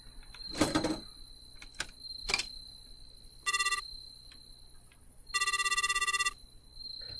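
A telephone rings in a Japanese horror game set on a late-night street. Two bursts of a bright electronic trill come in, the second longer, after a few soft thuds and clicks over a quiet ambient hum.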